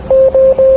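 Morse code for SOS plays as electronic tones: three even, steady beeps of equal length with short gaps between them, loud and clean with no speech.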